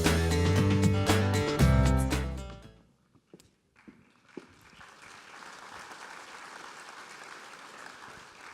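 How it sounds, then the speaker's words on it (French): After loud music ends abruptly, an audience at an agricultural trophy ceremony breaks into steady applause. It starts with a few scattered claps, then becomes a moderate, continuous patter of many hands. "Vous avez raison d'applaudir"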